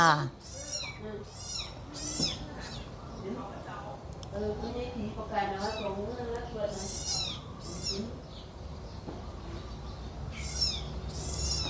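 A cat meows repeatedly while eating its morning meal behind a house, the high cries rising over a voice talking and calling almost throughout, with steady nearby background noise.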